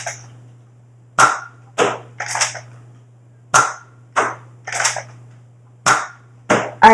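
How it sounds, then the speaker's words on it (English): A Nerf Zombiestrike Hammershot blaster fires a suction cup dart in a series of about nine sharp, snappy pops spaced unevenly, each a loud close burst over a steady low hum, with no talking. "I will let you know when I'm firing the suction cup dart that I found."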